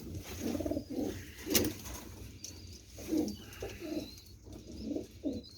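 A pigeon held in the hand gives soft, repeated low coos in a loose rhythm, close up against a quiet background with faint rustling.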